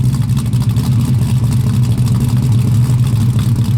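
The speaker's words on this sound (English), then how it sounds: "you can hear it's got a cam, nice cam to it, nice lumpy idle" A 1968 Ford Mustang Coupe's deep, loud remanufactured engine with an aggressive cam idles with an uneven, loping rumble, steady throughout with no other sounds.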